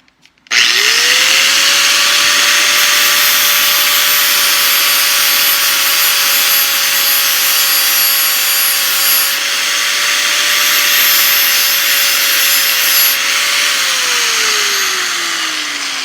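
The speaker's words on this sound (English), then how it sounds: "120 grit sanding to get as close as I can." A steady, loud power sander with 120 grit sandpaper whines continuously against the wood of a Yamaha FG-180 acoustic guitar, with a sustained grinding hiss and a slight drop in pitch at the end.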